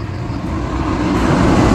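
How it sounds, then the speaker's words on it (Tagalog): Roadside traffic beside a street, a steady loud rumble of passing cars and other vehicles building slightly toward the end, with no voices over it. "dito ay medyo maingay ang ating kapaligiran. Maraming sasakyan dito sa ating paligid kasi nandito tayo ngayon sa gilid ng kalsada"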